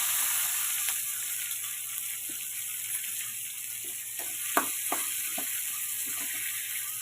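Cut green chillies fry in hot oil with a steady, fairly faint sizzling hiss throughout, broken by a few soft pops and light clicks near the middle.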